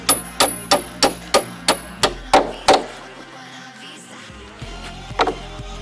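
A 12 mm steel rod being hammered into a drilled hole during roof construction on a house, a steady run of about nine sharp, loud metallic blows, then a pause and a couple of softer strikes.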